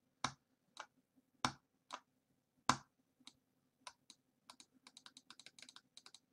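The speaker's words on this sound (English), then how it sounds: "I'm clicking it really loud so you can see just how much of a delay there is" Sharp clicks on a mouse or keys, a few loud isolated ones at first, then a quicker run of lighter taps, close and with no talking.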